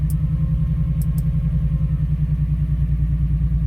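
An Offenhauser dual port intake engine running on propane, idling steadily with a low, even rumble and rhythmic mechanical clatter, close and continuous with no voices.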